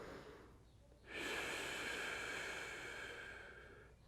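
A single deep breath during an upper-body stretching exercise: quiet for the first second, then a long, steady, airy exhale that stays full and close for about three seconds before easing off, with no talking over it.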